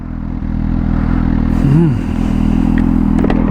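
A Suzuki GSX-R1000 motorcycle engine rumbles loudly nearby and briefly rises and dips in pitch as it shifts down, with some faint clatter afterward.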